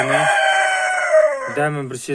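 Domestic chickens at an egg-laying nest box call loudly and close by, one long sustained harmonic cackle running nearly two seconds, then a couple of short clucks near the end.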